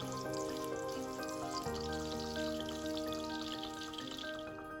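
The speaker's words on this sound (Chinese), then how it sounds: "热锅内倒入3大匙葱油，2片姜片爆香" Two ginger slices sizzle in three spoonfuls of scallion oil in a hot wok, a steady frying hiss running beneath louder background music throughout.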